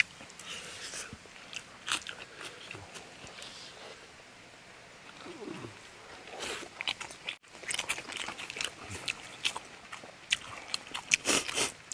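Crunchy food is bitten and chewed outdoors in a green rice field, with close, irregular crunching and snapping bites that grow denser and louder toward the end.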